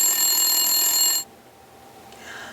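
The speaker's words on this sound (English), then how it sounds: "the tin can phone began to ring" A telephone rings with a bright, buzzy electronic trill for about a second, then cuts off abruptly, followed by a quieter, fainter ringing tone near the end.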